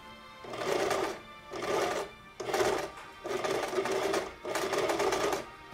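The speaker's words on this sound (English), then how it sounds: "Take the pin out and sew across." A sewing machine stitching ski equipment modifications runs in five steady bursts of fast mechanical whirring, each lasting about a second with brief stops between, close and clear with no talk.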